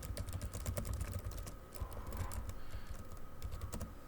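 Someone types a name on a computer keyboard: a steady run of quick, close keystrokes clattering without pause for about four seconds, with no voices.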